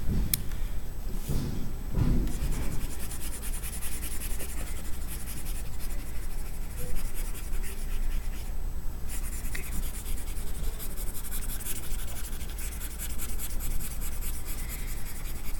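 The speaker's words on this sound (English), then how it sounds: "I'm actually going to erase my work" Marker or pen work on a board being rubbed out with continuous, close scratchy wiping and friction strokes, a few heavier bumps near the start, with no talking.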